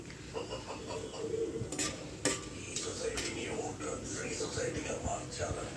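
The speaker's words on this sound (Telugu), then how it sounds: "ఆయిల్ వేడిగైన తర్వాత బిర్యానీ మసాలాలు ఈ ఆయిల్లో వేసి అయితే ఫ్రై చేసుకుంటున్నానండి" Biryani masalas frying in hot oil for a chicken liver biryani, a soft sizzle with light stirring and utensil clinks, under talking.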